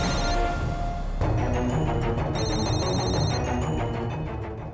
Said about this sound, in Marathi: सर तुमचा फोन वाजतो